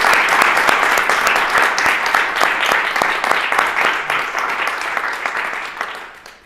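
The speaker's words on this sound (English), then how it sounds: "have a round of applause for our congressional delegation" Audience applauding a congressional delegation at an energy announcement event, a dense, steady round of clapping from a crowd indoors that slowly fades out over several seconds.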